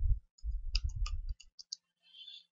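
Several quick clicks of keys on a computer keyboard, sparse and close, mixed with low thumping handling noise and a faint hiss afterward.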